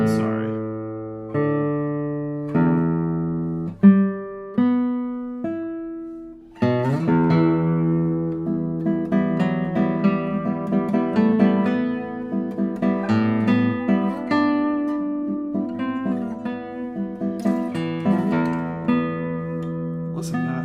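Solo acoustic guitar played on its bass strings, slow separate low notes at first, then fuller arpeggiated chords with ringing open resonance; a voice speaks briefly over it.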